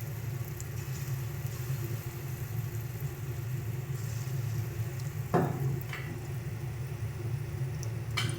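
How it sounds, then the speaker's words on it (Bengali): Small egg fritters (bora) fry in hot oil in a pan, giving a steady, soft sizzle throughout with a few sharper crackles and spatters. "বড়াগুলো খুব সুন্দর করে এপিট এপিট দুপাশি সুন্দর করে একদম লাল লাল করে ভাজবে"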